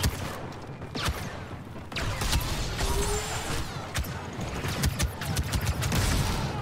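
Heavy gunfire rattles through a Star Wars Battlefront II battle, a dense wash of blaster shots and bursts with scattered sharper cracks, continuous and fairly close.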